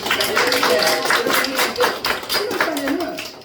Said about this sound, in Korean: 우리 축하 박수 한번 드립니다.